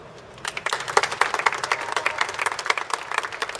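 Crowd applause for a singer at an outdoor James Connolly commemoration, starting after a quiet moment and continuing as a steady patter of many hands clapping at moderate loudness.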